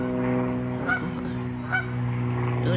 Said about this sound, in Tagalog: putak ng putak